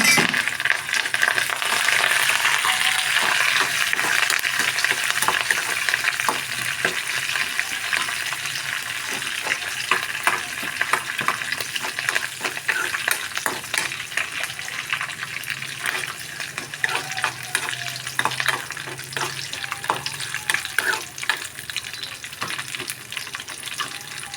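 Curry leaves fry in hot oil tempering for green chili coconut chutney, a dense, continuous crackling sizzle with sharp pops scattered throughout, steady and close.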